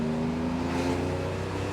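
A 1973 Porsche 911E air-cooled engine drones steadily from inside the car on a fast road, with a constant low hum and no clear rev changes in this short stretch, and no voices.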